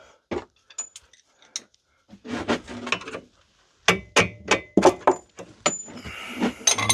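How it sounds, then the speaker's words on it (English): A bolt is worked loose from the rear subframe of a Mini Cooper S Cabrio, giving close, irregular metallic clinks, knocks and rattles separated by short silences. "Let me get this bolt out as well."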